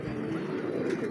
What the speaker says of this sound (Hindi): प्यारे प्यारे कबूतर हैं तमाम